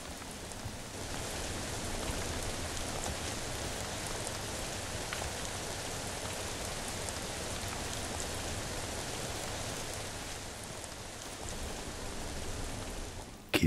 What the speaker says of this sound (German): jetzt ist der Regen auch nicht mehr so garstig